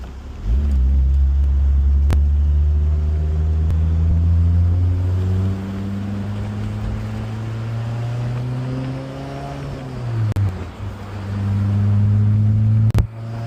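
A 2005 Honda S2000 running on E85 accelerates hard, its turbo and engine note climbing steadily through the gears in loud, continuous pulls with a brief dip at each shift, heard from inside the car.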